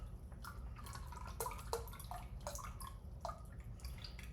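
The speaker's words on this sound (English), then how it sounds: "Get out our measuring cup. And we're just going to fill it on up." Liquid is poured into a measuring cup in a kitchen, giving a soft close series of splashing, dripping and gurgling bursts over a low steady rumble, without talk.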